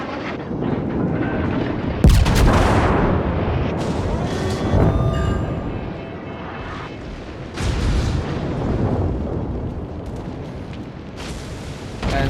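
Warship cannon fire and shell hits sound during a World of Warships battle with Dunkerque and Strasbourg, a sharp loud blast followed by several rumbling impacts and sustained low roaring at intervals, with no speech.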